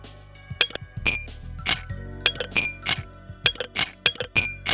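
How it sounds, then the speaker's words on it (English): A glass of water clinks in a quick irregular rhythm, bright ringing taps close by, with a few softer knocks between them. "Their sound effect is titled Glass of Water."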